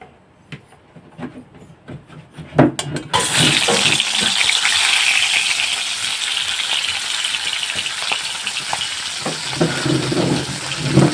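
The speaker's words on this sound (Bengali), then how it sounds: "এবার আমি একটা একটা করে মাছ ছেড়ে দেবো এর মধ্যে" Scattered clinks and small splashes are followed by a sudden, loud, close hiss as fish pieces go into hot oil in a wok, and a dense sizzle with occasional pops then carries on to the end.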